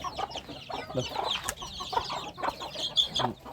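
Young chickens cluck in a run on a cold evening, brooding hens among them, with steady overlapping clucks and chirps close by and no talk.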